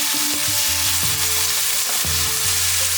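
Onion and tomato frying and being stirred in a pan, a steady close sizzle with intermittent scraping strokes of the spoon, no talk.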